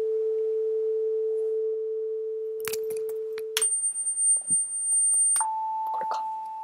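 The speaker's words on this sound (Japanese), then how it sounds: "サイン波が鳴っているのがわかると思います。" Pure sine tones generated in Max/MSP: a steady low hum, a few sharp clicks, then a high whistle-like tone and finally a mid-pitched tone, each sustained and alone.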